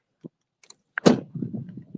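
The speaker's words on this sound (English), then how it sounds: "Let me shut the door." A door thuds shut close by, a solid impact followed by a short rattle, with a few small clicks and key-like jingles just before it.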